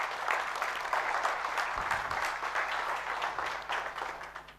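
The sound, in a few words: audience applause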